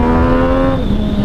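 A motorcycle engine is revved hard and held near the top of its range, a loud, close buzzing whine that abruptly drops in pitch as it hits the rev limiter.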